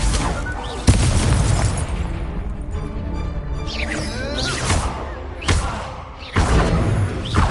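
Incendio fire spell cast in Hogwarts Legacy, a loud whooshing blast with booming thuds and sharp bursts, followed by several more impacts amid sustained magical rumble, close and forceful.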